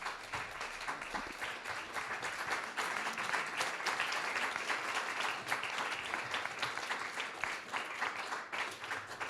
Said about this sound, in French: je voulais justement d'abord qu'on applaudisse tous les intervenants